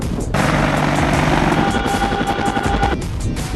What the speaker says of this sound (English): These Apache helicopters are based in Germany